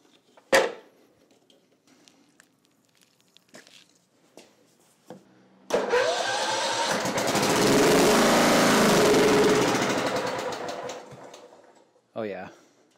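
A Simplicity Regent 14hp lawn tractor engine fires up after a few sharp clanks and knocks, running loud and steady for several seconds before dying away, followed by a short voice.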